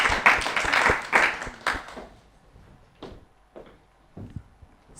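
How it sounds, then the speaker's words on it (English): A small audience at a children's spelling activity claps briefly, a burst of dense applause that quickly thins into a few scattered, isolated claps. "Give her a round of applause."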